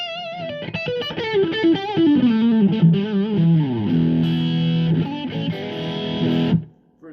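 A Gibson Les Paul Standard 2002 Honey Burst electric guitar on both pickups with heavy distortion plays loud, close sustained notes with sliding bends, then a held chord that is cut off abruptly at the end.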